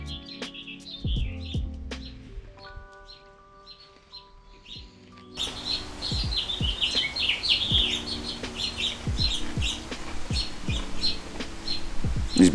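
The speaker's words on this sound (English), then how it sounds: "These birds are driving me nuts." Birds chirp and tweet outdoors in repeated bright calls, faint at first and then louder and busier over steady background noise, with some tapping sounds.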